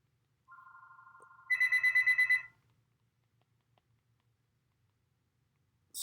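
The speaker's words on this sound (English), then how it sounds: "sorry, the phone rang." A phone rings in a quiet room: a steady electronic tone, then a louder pulsing burst of rapid trills, followed by near silence.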